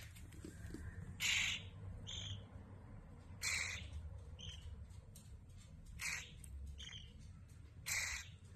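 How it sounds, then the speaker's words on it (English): Baby birds from a fallen nest, being fed indoors, give faint, scratchy high chirps in repeated short bursts of a second or so over a low steady background hum. "we have some little baby birds, and you just fed them, actually"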